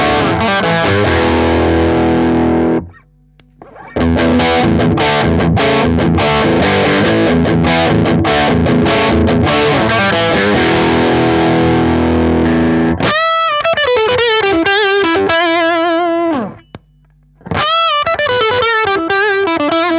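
Electric guitar through an amp pushed by a boost pedal, loud driven chords and riffs with sustained distorted tone, a couple of short pauses, then brighter single-note lead lines, played alone with no talking.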